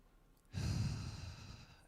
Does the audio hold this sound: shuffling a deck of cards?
no